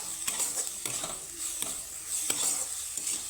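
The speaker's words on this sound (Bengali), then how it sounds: "সুন্দর করে মশলার সাথে আমি সুন্দর করে ভেজে নেব সবজিগুলো" Vegetables frying with spices in a pan for an oats and semolina dish, a steady close sizzle with several sharp scraping stirs of a utensil against the pan, no talking.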